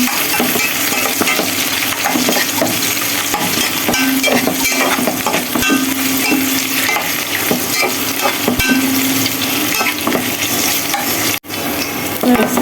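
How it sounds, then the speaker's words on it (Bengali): Cinnamon and bay leaf fry in hot oil in a pan with a loud, steady sizzle and scattered clinks of a stirring utensil, broken by one brief dropout near the end. "এবার দারচিনি তেজপাতা দিয়ে দিলাম"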